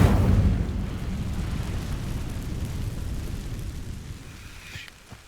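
A fire spell bursts into flame against dry vines in the Hogwarts Legacy video game, a loud low whooshing burn that starts strong and keeps roaring steadily before fading, with a brief sharp pop near the end.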